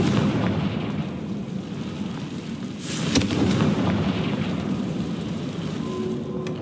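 A Confringo blasting spell in the Hogwarts Legacy video game gives a loud, rumbling explosion with a sharp crack near the middle, set in a continuous roar of game noise.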